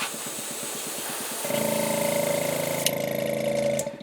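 An airbrush or spray gun hisses steadily while paint is sprayed onto a fishing lure bill, starting with a sputtering pulse before settling into a loud continuous spray close up.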